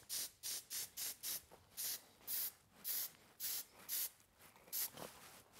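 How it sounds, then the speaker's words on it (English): Hairspray sprayed onto a man's hair after a tight fade haircut: about thirteen short, close hissing bursts in an uneven rhythm, each lasting a fraction of a second, with quiet gaps between them. "Hit him with a little bit of hairspray."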